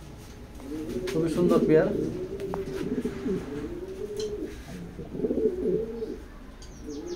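A pair of pigeons coo softly and steadily in a loft, their low rolling calls running throughout while someone talks over them.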